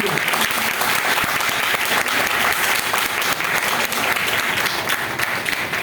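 At an indoor business presentation, a seated audience claps loudly and continuously. The thick, even applause fills the whole stretch without a break.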